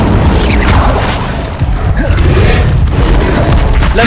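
Incendio fire spell cast in Hogwarts Legacy, a loud, dense whooshing boom of flame that fills the whole stretch and blends with continuous game effects.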